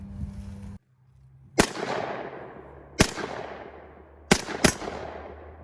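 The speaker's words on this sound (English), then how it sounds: "we're gonna try to shoot this thing and see what kind of damage it'll do" AK rifle shots fired outdoors at a frozen turkey: four loud, sharp cracks, the last two close together, each trailing into a long rolling echo, with a steady hum underneath.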